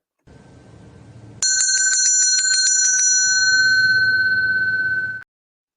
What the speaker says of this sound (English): I would ring that bell 21 times